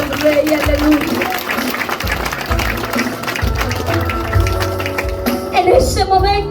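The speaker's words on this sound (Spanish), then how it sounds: "dale fuertes palmas al Rey, aleluya" A church congregation claps loudly in worship, the steady broadband patter running under music and singing throughout.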